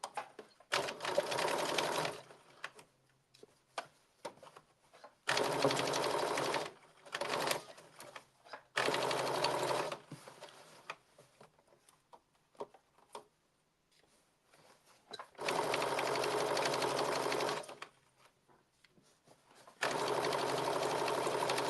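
A sewing machine stitches the flap seam of a blazer at a 5/8-inch seam allowance, running in several close, loud bursts of rapid mechanical chatter separated by quiet pauses.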